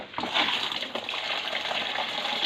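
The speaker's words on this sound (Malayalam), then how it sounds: "വെള്ളം നിറയ്ക്കും." Water gushes steadily into a freshly cleaned spotted catfish aquarium tank, a loud, continuous rushing and splashing close by with no voices.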